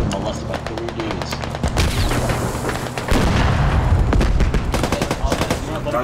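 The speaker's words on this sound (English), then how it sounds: "Guns blazing, guns blazing." Gunfire in the infantry shooter Squad: rapid bursts of automatic rifle fire with heavy, booming shots, close and loud, building into denser sustained firing over a few seconds, with no voices.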